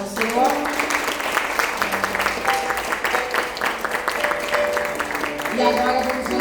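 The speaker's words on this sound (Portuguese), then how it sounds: "Uma forte salva de palmas ao Senhor." A church congregation at a Sunday service applauds with dense clapping mixed with music-like tones and voices, steady and fairly loud throughout.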